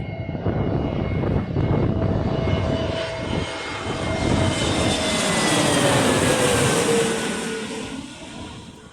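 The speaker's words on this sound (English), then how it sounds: "No, it's not a 737, it's an A319 from EasyJet." An EasyJet Airbus A319 jet airliner passes overhead with a loud, sustained engine roar that swells and slowly shifts in pitch as the plane goes by, then begins to fade, with no voices over it.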